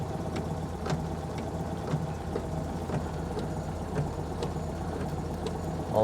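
A Citroen 2CV engine idles steadily and fairly loud, its low knocking drone continuous throughout, with faint regular ticks that fit windscreen wipers sweeping at about one-second intervals.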